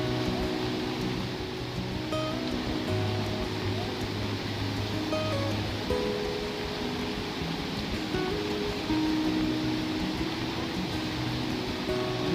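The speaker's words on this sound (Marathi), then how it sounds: "हा पूर पहा मित्रांनो" Flooded Ban Ganga river water rushes past in a steady broad roar, continuous and fairly loud throughout, with faint tones and background noise mixed in.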